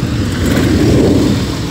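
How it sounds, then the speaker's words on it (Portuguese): A truck coming up behind a vehicle on a rural road in Bahia, Brazil, heard as a steady, loud engine and road rumble that swells slightly mid-way, with no speech. "E um caminhão que vem aí atrás de nós."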